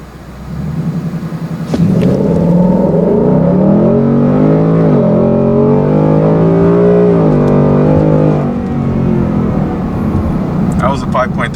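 A 2018 Ford Mustang GT automatic launches from a power-brake start and accelerates 0 to 60, its V8 rising loudly through the gears in a rough, rumbling climb, then settling to a steady cruise drone.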